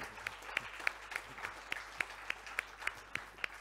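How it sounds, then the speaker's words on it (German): Welcome applause from an audience at an evening panel discussion on hydrogen and the energy transition: faint, evenly spaced claps from a few hands, steady throughout and heard from some distance. "Ein Applaus für Dr. Berit Erlach."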